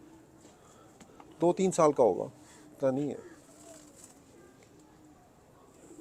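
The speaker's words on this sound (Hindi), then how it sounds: "लो जी दोस्तों, बड़ा पुराना कबूतर है।" An old pigeon, held in the hand, coos softly in the background while someone talks close by.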